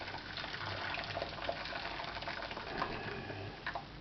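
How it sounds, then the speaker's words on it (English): Hot water running from a kitchen tap into the bottom of a saucepan, a steady splashing gush with small bubbling spatters, continuous and fairly close. "we're going to get some hot water into the bottom of our saucepan"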